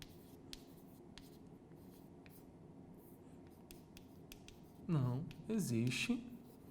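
Marker or chalk writing on a board in a classroom: a steady run of short, faint scratching strokes, followed by someone speaking over it near the end.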